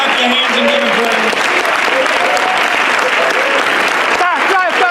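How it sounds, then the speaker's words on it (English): A church congregation claps hands in praise during a sermon, a loud, dense, continuous wash of applause with voices calling out through it. "Somebody clap your hands and give Him praise"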